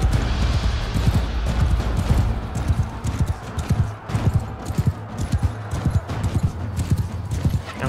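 Horses gallop in the Mount and Blade 2: Bannerlord battle, a dense drumming of many hooves pounding in quick, steady rhythm, loud and close over a low rumbling battlefield din, with no talk.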